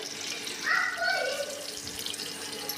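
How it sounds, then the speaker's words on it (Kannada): Mustard seeds sizzle in a small tablespoon of hot oil inside a pressure cooker, a steady moderate hiss with brief brighter crackling bursts early on and no talk. "ಅದಕ್ಕೆ ಒಂದು ಸಣ್ಣ ಟೇಬಲ್ ಸ್ಪೂನ್ನಷ್ಟು ಎಣ್ಣೆ ಹಾಕ್ಕೊಂಡೀನಿ. ಈಗ ಒಂದು ಸ್ವಲ್ಪ ಸಾಸಿವೆ"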